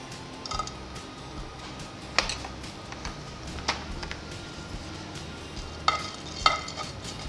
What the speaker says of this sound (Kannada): ಸ್ವಲ್ಪ ತುಪ್ಪನಲ್ಲಿ ಗೋಡಂಬಿ ಎಲ್ಲ ಫ್ರೈ ಮಾಡ್ಕೊಳ್ಬೋದು